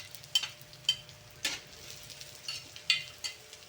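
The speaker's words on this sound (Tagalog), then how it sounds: "ilunod natin yung bawang. Siyempre, sibuyas, sunod na rin natin." Garlic and onion frying in oil in a pan while being stirred, a soft sizzle under a series of sharp, irregular clinks and scrapes of a utensil against the pan.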